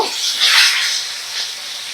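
Pomfret fish fries in hot oil over a medium flame, giving a steady close sizzle with a brief louder crackling burst near the start, no voices present.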